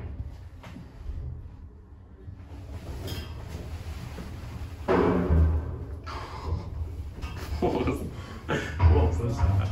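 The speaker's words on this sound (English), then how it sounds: "It's got a clickety clackety in the shaft." Clicking, clattering rattle from inside the shaft of a Keighley Mod Elevation lift at Fenwick in Tunbridge Wells, coming in irregular bursts alongside a low running rumble, with people talking nearby.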